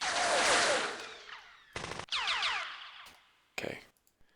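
Gunfire from a World War II strategy game set in the Philippines, heard as a few short bursts of synthetic shots and crackling impacts separated by brief gaps, with no talking over them.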